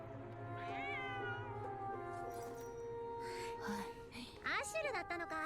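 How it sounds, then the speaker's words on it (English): Cat in a Genshin Impact cutscene: several drawn-out, rising meows sound close and clear over a low game music bed, with a final sharper, higher meow near the end. "The cat? It's Nefer's cat."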